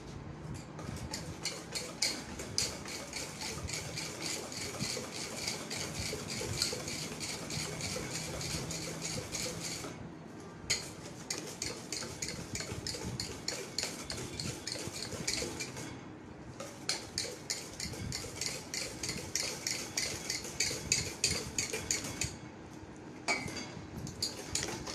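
Rapid, steady clinking of a whisk against a bowl as a sweet mixture is beaten until the sugar dissolves, continuous and close with a couple of brief pauses, no talking.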